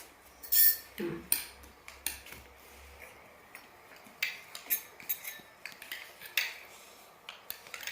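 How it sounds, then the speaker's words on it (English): A knife cutting banana into pieces in a bowl, with a string of light clicks and taps spread unevenly across the clip, faint and close, with no talk. "take your knife and cut it into pieces"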